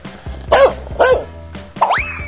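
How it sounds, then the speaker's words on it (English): A dog gives three loud, close barks spaced about half a second apart, with a bright rising tone trailing the last one. "Dog."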